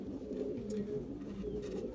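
Belgian racing pigeons coo softly and steadily at close range, with low throaty calls repeating over a faint background hum.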